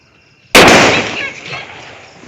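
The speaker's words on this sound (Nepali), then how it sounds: "पटेका पड्कियो" A firecracker goes off with a sudden loud, sharp bang after a quiet start, then a ringing burst of crackle and echo that slowly fades over the next two seconds.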